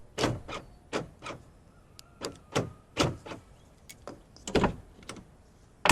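A Skoda Fabia Mk1 with a previously stuck door gives a series of sharp mechanical clicks and clunks from the lock and handle, spaced irregularly and heard up close, with no talking.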